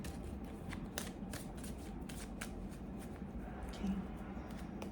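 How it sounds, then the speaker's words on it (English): A deck of oracle cards being shuffled by hand, giving soft, rapid riffling and flicking at close range, quiet and continuous, with repeated bursts of card snaps over a faint background hiss. "Let me just shuffle some more."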